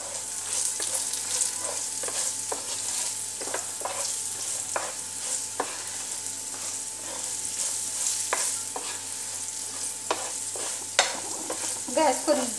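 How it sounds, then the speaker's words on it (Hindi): Home-ground chili powder roasting in a pan while being stirred, with a steady soft sizzle and repeated scraping clicks of a spoon at an even pace, close by and with no talking. "ये मिर्च पाउडर है, ये घर की कुटी हुई है मिर्च, इसको हम थोड़ी देर भूनेंगे।"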